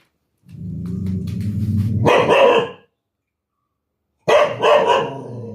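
A dog close by lets out a drawn-out, throaty bark that breaks into loud barking, then falls silent before another sharp burst of barks.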